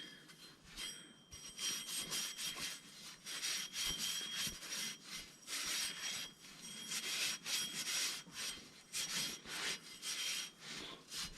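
A Scotch-Brite pad scrubs a rear brake part from a 1974 MG Midget in a steady rhythm of rasping back-and-forth strokes, close by and fairly quiet, with no talking.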